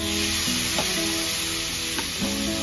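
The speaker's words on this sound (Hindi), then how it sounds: "मसाला ब्राउन हो गया है देखिए अब हम टमाटे डालेंगे" Tomatoes go into browned masala for a tomato chutney, and the hot oil sizzles and crackles steadily while a spoon stirs a few times, close and continuous with no voices.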